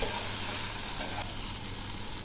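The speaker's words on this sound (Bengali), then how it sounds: "এখন আমি এগুলি নেড়ে দিচ্ছি এই যে দেখুন এগুলি দিতে দিতে পেঁয়াজটা সুন্দর ভাজা হয়েছে" Browned onions with a little turmeric sizzle and crackle in a hot pan while being stirred, a continuous close frying hiss with no voices.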